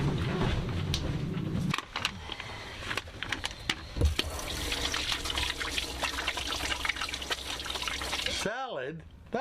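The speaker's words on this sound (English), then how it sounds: "you gotta wash your hands before you come in" Water runs steadily from a tap as hands are washed, a continuous broadband splashing and trickling that stops abruptly near the end, with people talking nearby over the flow.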